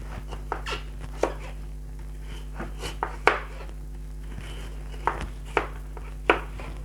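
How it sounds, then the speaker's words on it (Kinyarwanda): A knife chops beetroot into small pieces on a board, sharp irregular strikes, about a dozen close taps spaced unevenly over a faint steady hum. "dukate beterave yacu duto duto kugira ngo nayo tuyishyiremo, tuyisyane"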